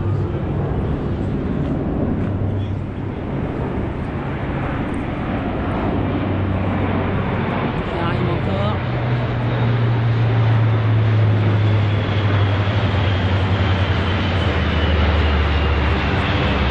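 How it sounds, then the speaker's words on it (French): A continuous loud engine roar of aircraft passing overhead on the morning of 14 July in Beynes, France, with a deep rumbling drone that swells and shifts in pitch over time. "Voilà, les autres avions qui arrivent."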